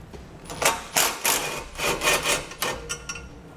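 A 13mm socket turns bolts out of a 2018 Chevrolet Sonic during base plate setup, producing a series of short, close ratcheting bursts with brief pauses between them.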